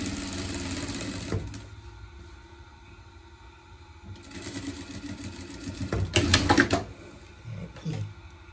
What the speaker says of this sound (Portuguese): Aqui do lado, a gente rebate a costura também, tá?